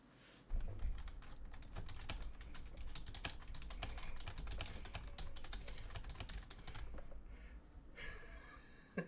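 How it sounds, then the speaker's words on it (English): Rapid, uneven clatter of keys on a computer keyboard, close and continuous for several seconds, with a brief pause near the end. "I'm just gonna quickly type it down. Okay, JS typing now."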